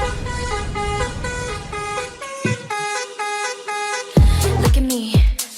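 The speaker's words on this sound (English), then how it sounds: "it's like cool type of buses and they have such weird sounds like beep" Horn-like beeps in a rhythmic pattern from a song about buses in Indonesia, stacked tonal honks repeating steadily before louder, heavier blasts near the end, with no talking.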